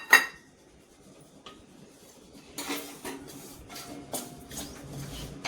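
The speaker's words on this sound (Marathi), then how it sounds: "तर आपण अगोदर भाजून घेऊ तो चांगला" Coarse jowar semolina being dry-roasted and stirred in a pan, producing quiet clattering and scraping taps of the spoon against the metal that grow busier after a brief near-silent stretch.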